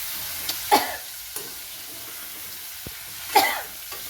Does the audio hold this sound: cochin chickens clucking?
no